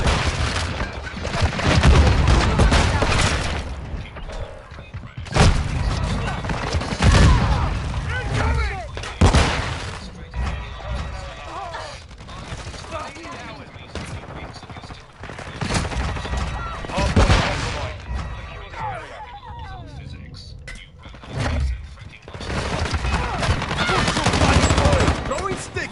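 Bursts of automatic rifle fire and loud booms from a Call of Duty Modern Warfare 2 firefight come in repeated volleys with short lulls, mixed with shouted callouts and other game voices.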